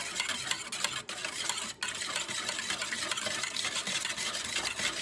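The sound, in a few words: mixing pancake batter with eggs and vanilla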